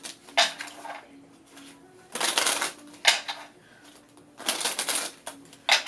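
Tarot cards are shuffled in several quick bursts of riffling and slapping, with short pauses between them and no talk.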